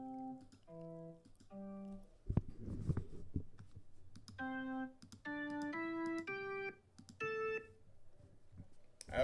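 Short synthesized melody notes entered one by one by clicking on the Google Bach doodle's score or keyboard, a series of clear tonal beeps in phrases with quiet clicks in a gap between them, no talk.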